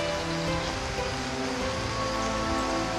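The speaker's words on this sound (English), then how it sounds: "Leaves and bromeliads capture most of the deluge." Heavy rain pours steadily onto tropical forest foliage and bromeliads in Costa Rica, a dense, continuous hiss with no voices.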